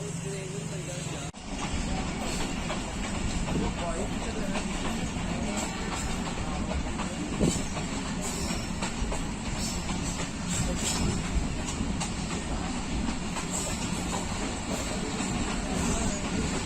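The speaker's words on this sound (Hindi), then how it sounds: "अल्लामा इकबाल एक्सप्रेस किला सोबा सिंह से रवाना।" The Allama Iqbal Express passenger train pulls out of Qila Sobha Singh station in Pakistan, with a steady rumble of wheels rolling on the rails and faint voices in the background.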